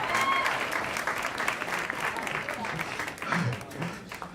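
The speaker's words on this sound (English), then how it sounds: "I'm gonna wait for applause." Applause from an audience at a jazz talk and performance event, a dense spread of clapping that holds steady then thins toward the end, moderately close with a few voices mixed in.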